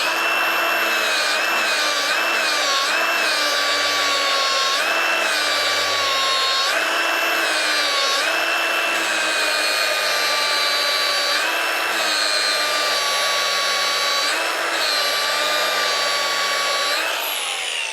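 Abrasive sanding on a stainless steel butt weld, working out grind marks before moving to 400 grit; a steady, loud whirring power-tool drone runs continuously with slight pitch wavers and no talk.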